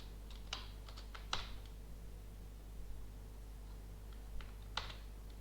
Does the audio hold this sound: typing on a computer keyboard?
yes